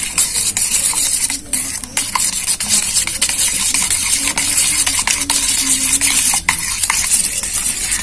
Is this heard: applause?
no